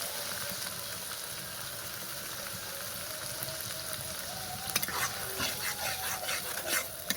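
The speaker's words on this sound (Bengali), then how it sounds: "নেড়ে নেবো, ভালো করে ভেজে নেবো যতক্ষণ কাঁচা টমেটোর গন্ধটা না যায়" Blended tomato, two medium tomatoes puréed, frying and being stirred in a pan for a rohu fish kalia, with a steady broad sizzle and sharper scraping stirs toward the end, close and alone.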